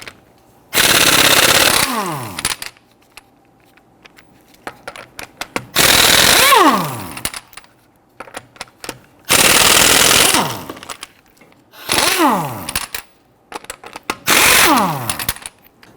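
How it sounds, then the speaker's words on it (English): An impact wrench with a 19mm socket loosens lug nuts on a 2010–2019 Ford Taurus: five loud, close hammering bursts of roughly one to two seconds each, separated by short quiet gaps, with the pitch dropping as each burst winds down. "we're going to use our 19mm socket to loosen and remove our lug nuts"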